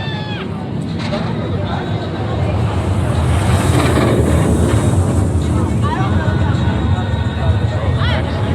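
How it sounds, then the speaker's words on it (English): Tormenta roller coaster at Six Flags Over Texas, a broad rushing roar that swells through the middle and lingers, with wind buffeting and crowd voices mixed throughout. "The noise that this roller coaster makes"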